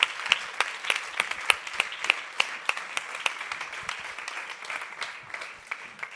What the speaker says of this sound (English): Marta Arenas and Sofia Ferreira, big applause for them.